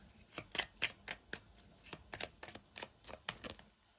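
Oracle cards being shuffled, a run of crisp riffling snaps and slaps arriving in uneven bursts, close and fairly quiet with no voices.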